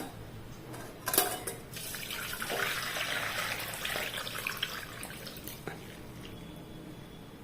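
Boiled potatoes and their cooking water are tipped into a kitchen strainer, giving a splashing pour that builds and fades into trickling and drips, close and alone.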